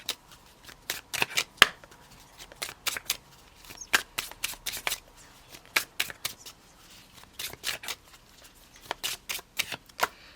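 Tarot cards being shuffled by hand in a quiet room, a steady run of crisp riffling bursts and snaps in irregular quick clusters, close and clear with no talking.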